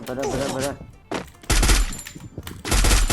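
Automatic weapons fire in a shooting video game, dense loud bursts of shots cutting in near the start, midway and at the end, with a player's excited voice talking over the opening.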